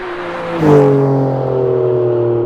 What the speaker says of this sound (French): Tu vois là au passage de rapport?